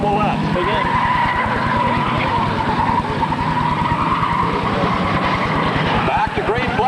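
Enduro race cars thunder around the Kings Park Speedway oval, a loud continuous pack of engines with tire squeal and skidding, while an announcer's voice runs over the top.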